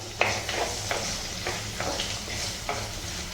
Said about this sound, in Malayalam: ജസ്റ്റ് ഒരു കളർ ചേഞ്ച് ആവുന്ന വരെ വഴറ്റിയെടുക്കാം